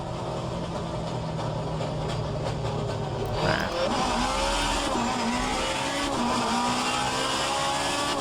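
An Alfa Romeo 155Ti race car in a video game brakes hard and then accelerates, engine note dropping sharply and then climbing again through the gears, loud and continuous with no talk.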